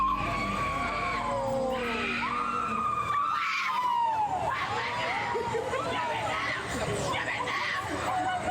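A woman screams repeatedly on an amusement park ride, her shrill, wavering cries rising and falling over loud ride rumble and crowd noise, with talk mixed in.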